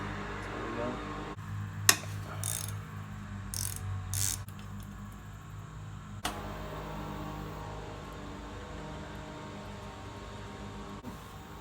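Mechanical clicking and scraping from a tool working on the crank arms of a Marin San Quentin 3 mountain bike, close and moderately quiet, with a few sharp knocks and metallic clicks over steady low background hum.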